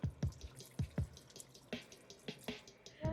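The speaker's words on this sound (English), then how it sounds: "I'm going to add some water." Water is added to a cooking pot while preparing a plant-based meal, heard as a series of sharp, close drips and splashes in an irregular rhythm, with no talking.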